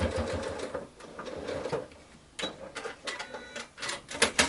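A sewing machine stitching a narrow eighth-inch seam on a quilted fabric zippered box pouch, fast mechanical chattering in several close bursts separated by short pauses, with no speech.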